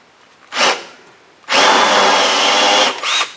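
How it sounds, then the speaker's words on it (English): Power drill countersinking a screw hole in a wooden boat plank during a scarfed plank repair: a short burst, a pause, then a loud steady whine for about a second and a half, closing with a brief final spin. "I'm just putting enough of a countersink here so that the screw head will"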